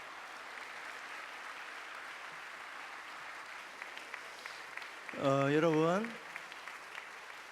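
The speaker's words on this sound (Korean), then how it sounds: "나오시려면 한참 걸리니까 박수를 계속 치셔야 됩니다." A church congregation at a missions assembly applauds as elderly choir members, women aged seventy to ninety-three, file in; soft, distant clapping runs throughout under a brief loud spoken word near the end.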